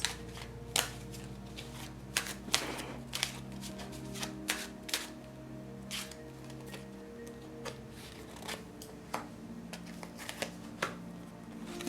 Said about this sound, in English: let's go ahead and dive on in and shuffle the cards